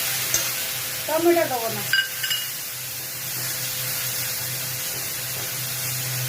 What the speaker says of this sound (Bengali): এই যে এই মশলায় কষে নিচ্ছি